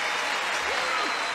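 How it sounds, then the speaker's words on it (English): A studio audience at a 1978 Card Sharks game show taping applauds contestant Sue Ann, a steady, dense wash of clapping with a faint voice briefly underneath. "You want to applaud Sue Ann. Go right ahead."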